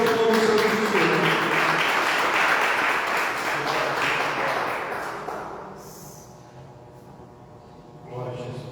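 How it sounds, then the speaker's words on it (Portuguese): A church congregation applauds during an evening service, a loud burst of clapping that tapers off over several seconds, with voices beneath it and a brief renewed swell near the end. "E as palmas louvo e exalto o nome do Senhor."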